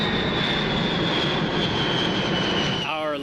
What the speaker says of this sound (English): The oldest model still in use is known as the B-52 and has been in the sky since the 1950s.